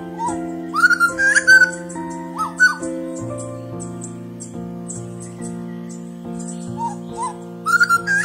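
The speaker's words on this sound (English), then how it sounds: "Gray butcher bird." A grey butcherbird singing, with rich fluting whistled phrases repeated over several seconds, clear and fairly close, with no talk.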